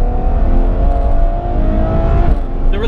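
A Ferrari F12 TDF V12 engine revving hard, a loud sustained mechanical roar with rising tonal whine, close and dominant throughout.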